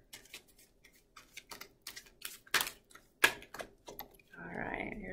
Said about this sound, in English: I've seen a couple of the same cards as I shuffle through.